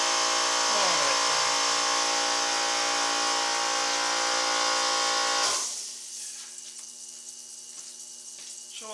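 A small Taig lathe runs at 390 RPM with a steady, high-pitched whine and hum that drops sharply to a quieter drone about halfway through.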